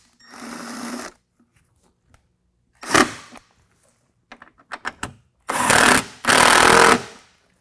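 A 10 millimeter socket tightens bolts on a headlight on a 2022 Ford Bronco, heard as several loud bursts of power-tool whirring and rattling separated by short clicks and quiet gaps, with no talking.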